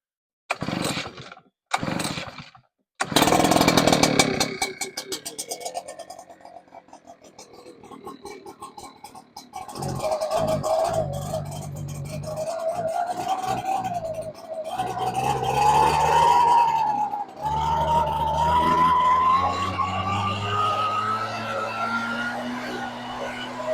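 An Echo PB-9010 backpack leaf blower gets a cold start after sitting for a month: a few sharp starter pulls, then the two-stroke engine catches and runs loud and close, its pitch climbing steadily as it revs up.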